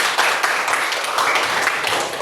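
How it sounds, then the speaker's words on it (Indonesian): Children in a classroom clap together in a brisk, continuous burst of applause that stays close and fairly loud throughout. "Iya, kasih tepuk tangan."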